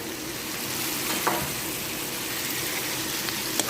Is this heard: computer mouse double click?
no